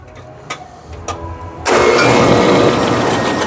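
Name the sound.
Brunswick A2 bowling pinsetter machine cycling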